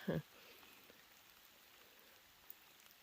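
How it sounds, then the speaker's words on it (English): Light rain falls at a backcountry campsite in Temagami as a soft, even patter, quiet and steady, opening with a brief dull thump and a small tap later on. "Just having a rain day here."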